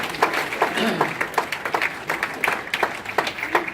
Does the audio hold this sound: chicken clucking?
no